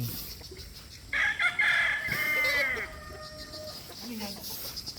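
An Abunayon straight comb gamefowl broodcock rooster crows once, loud and close, with drawn-out harmonic calls and short clucks, while people talk nearby.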